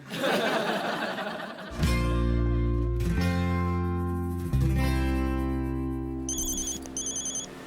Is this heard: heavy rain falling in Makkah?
no